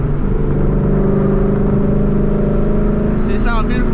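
Engine of a 2014 Ford Mustang GT held at 3,000 RPM, a loud, steady, close rumbling drone that stays even throughout, with a voice talking over it.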